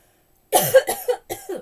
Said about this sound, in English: Apologies for the coughing down the camera, down the microphone there.